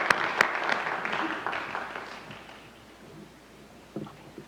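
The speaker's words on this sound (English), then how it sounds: "Should we do a clap of round of applause for everyone?" A school audience claps for the spelling bee contestants, a moderate round of applause that fades out, with a couple of sharp claps up close.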